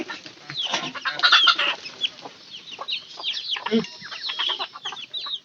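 Chickens and roosters in a farmyard clucking and squawking close by, overlapping bursts of calls in an irregular flurry, with a voice heard briefly among them.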